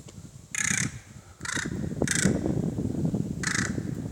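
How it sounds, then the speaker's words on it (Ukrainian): A hooded crow calls in four loud, harsh caws spaced a second or so apart, near and clear over faint background noise. "Сидить і кричить сіра ворона."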